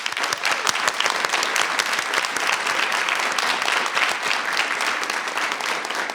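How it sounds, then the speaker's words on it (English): A crowd claps continuously at a school board meeting, dense and steady, with no pauses or speech. "Let's give him a round of applause."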